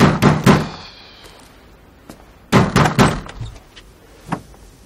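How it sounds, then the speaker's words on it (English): Heavy banging on a door comes in two clusters of loud thumps, a few quick blows at first and then a harder, faster burst, with single knocks in between and no talk. "Someone banging on the door."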